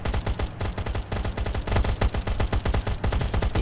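Rapid, continuous gunfire from the mobile survival shooter Last Day Rules Survival, dense bursts of shots crackling back to back at steady loudness for the whole stretch with no voices.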